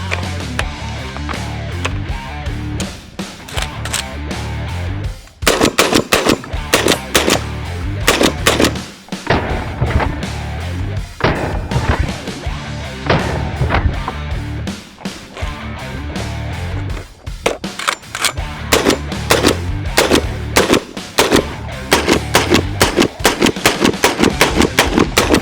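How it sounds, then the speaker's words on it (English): USAS-12 combat shotgun firing in rapid bursts, loud booming shots coming in fast strings with brief pauses between volleys, close and continuous throughout. "this is actually my first time ever shooting a USAS-12"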